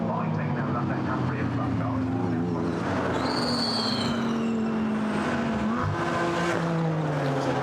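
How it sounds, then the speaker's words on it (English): GT4 race cars including BMW, Audi, Porsche, Aston Martin, McLaren and Mercedes at Brands Hatch circuit, engines droning and shifting pitch as they pass, under continuous commentary. "Cars are turning their way down towards Graham Hill Bend once more."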